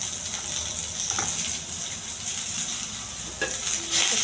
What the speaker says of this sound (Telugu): దోరగా వేయించాలి